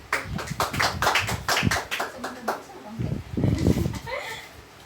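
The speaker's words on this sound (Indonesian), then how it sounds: "Kita beri aplaus untuk" A classroom of high school students breaks into a short round of applause, with quick clustered claps mixed with voices talking over them.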